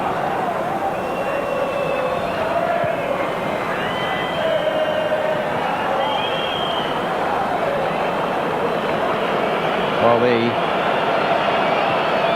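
A World Cup final stadium crowd between Argentina and Germany, with Italian spectators growing restless, keeps up a broad, continuous roar and murmur beneath a commentator's voice.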